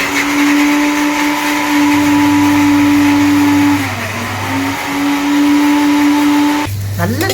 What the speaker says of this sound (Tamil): இந்த முந்திரி பருப்பு பொரிகளில் கசகசா பெருஞ்சீரகம் அதை எல்லாத்தையும் மிக்சியில் போட்டு ஆட்டணும்